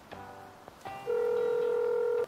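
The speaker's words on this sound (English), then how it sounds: "Make a phone call to Duff." Phone dialing in the video game Dave the Diver: a few short electronic beeps, then a steady, sustained tone that holds for about a second before cutting off, clear and with no talking.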